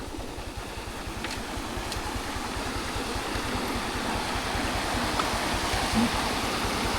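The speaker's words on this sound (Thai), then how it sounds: "สายน้ำนี่เป็นสายน้ำสายเดียวที่ไหลมาแต่ประเทศเวียดนาม" A natural river stream on the Laos–Vietnam border, flowing steadily with a loud, even rush of water throughout, joined by a regular low throbbing, likely from a nearby engine.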